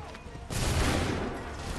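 A massed musket volley in Assassin's Creed III Remastered, a battle at Lexington and Concord, erupts as one loud crackling burst after a shouted command and then decays into a rolling echo.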